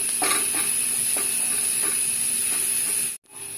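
Snake gourd stir-fry cooking in a pan, a steady close hiss of steam and gentle sizzle with a few soft stirring taps, cut off abruptly near the end.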